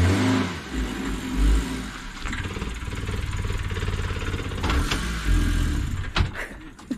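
Minivan with a manual gearbox revving hard on a steep cliffside mountain road in Chongqing, the engine droning loud and close with rises and dips in pitch, plus a few knocks and rattles near the end.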